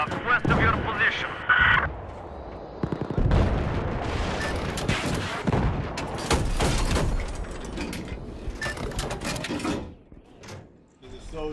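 Gunfire and heavy artillery-style blasts from a Battlefield 4 Obliteration match, loud and dense with repeated shots, bursts and mechanical clanks over a roaring battlefield background, with voices talking throughout.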